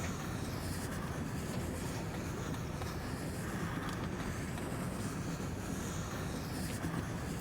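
A train ride in the video game Little Misfortune rumbles along as a steady low roar with windy hiss, continuous and unchanging throughout.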